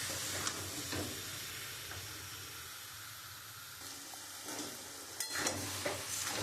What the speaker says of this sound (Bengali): আমি এটা দিয়ে একটুখানি কষাবো।